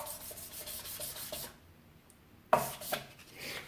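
Rhythmic abrasive rubbing strokes of a polishing pad go back and forth on guitar frets close up, pause briefly into near silence, then resume with a sharper scrape.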